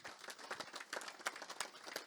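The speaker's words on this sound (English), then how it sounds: "Another round of applause." Applause from an audience at a health technology conference session, a brief burst of scattered, fairly light clapping, soft and somewhat distant.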